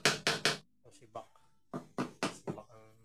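Plastic from a dismantled washing machine is knocked to test its brittleness, giving several sharp, close taps in quick clusters, some with a brief hollow ring.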